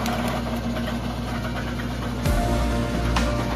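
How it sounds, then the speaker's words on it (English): An Art Steel TRH-120 tractor-driven wood splitter with a 25 horsepower motor and 50mm PTO shaft runs steadily, a loud low engine drone and rattle that grows slightly heavier partway through, with no talking. "Returning to Art Steel TRH-120, a super product of tractor-controlled wood splitting, combining power and perfect precision."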